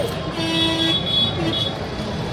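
A line of cars and other vehicles on a road during a crowded political rally in Gauriganj, Amethi, with a steady traffic rumble and a couple of horn toots standing out, moderately loud and close.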